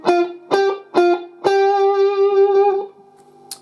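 Electric guitar with distortion plays a riff slowly and staccato: three short clipped chords, then a fourth chord held for over a second before fading, with no talk.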